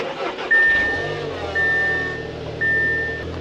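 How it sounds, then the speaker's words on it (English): A 2016 Audi TT is cold-started: the engine catches about a second in and settles into a steady, rumbling idle, while a bright chime beeps three times at regular intervals. "This is a cold startup on a 2016 Audi TT."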